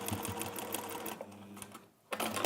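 A sewing machine stitches velvet fabric in a fast, steady mechanical run. It pauses briefly, then starts up again.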